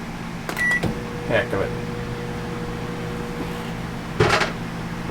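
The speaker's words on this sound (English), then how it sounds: "Let's see if we can run the microwave" Microwave oven running inside an RV, a steady mechanical hum under a person speaking, with beeps and a door clunk near the start and a sharp click near the end.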